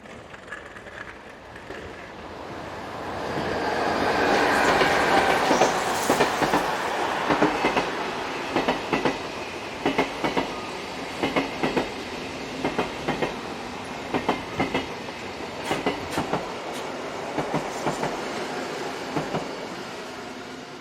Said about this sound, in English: number 460082 passes by the town's goods yard with a train for